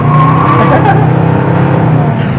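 A 1968 Pontiac GTO engine roars loudly and close while the car accelerates on the road, a continuous rumbling drone with faint tire noise, and voices speak faintly underneath.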